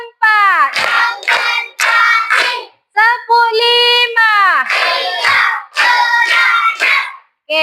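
An elementary school class does a rhythmic clapping cheer: bursts of children's chanting voices alternate with quick group claps, loud and close in a classroom.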